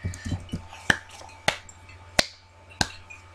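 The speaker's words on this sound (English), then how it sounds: "that was me clapping if you didn't know" Four sharp, separate hand claps, about half a second apart, with quiet background sound between them and no talking.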